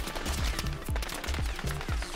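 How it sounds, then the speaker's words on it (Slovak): Distant gunfire in the Battlefield 6 video game: rapid bursts of muffled shots repeat in an irregular rhythm over a constant noisy battlefield backdrop, with no talk. "Tak to po mne strieľa z diaľky."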